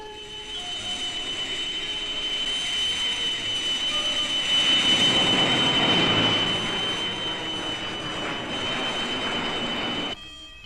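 Jet aircraft engine, a loud sustained roar with a steady high whine on top that swells toward the middle and holds before cutting off abruptly near the end.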